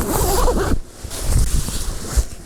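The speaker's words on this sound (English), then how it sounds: "Zip it up." Zipper being pulled shut on a camping shelter while crawling in during solo wild camping on a hilltop, one loud close rasping zip lasting under a second, followed by quieter rustling.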